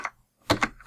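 Terminal commands typed on a computer keyboard: a few close, crisp key clicks in a quick burst after a brief pause, with no talk.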